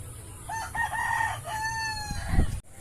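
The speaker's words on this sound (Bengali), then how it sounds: "ডাকছিল এতক্ষণ ধরে মোরগটা" A rooster crows in a green village beside a groundnut field, one full cock-a-doodle-doo rising and holding before it cuts off, fairly close over steady outdoor background noise.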